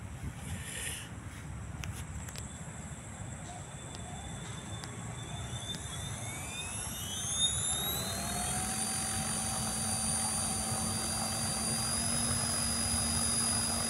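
An Italian belt-drive MSH Protos RC helicopter runs at a field, its engine and rotor giving a steady whine that spools up, with the pitch rising and holding, heard from a short distance over wind.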